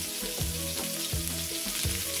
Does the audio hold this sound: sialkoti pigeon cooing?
no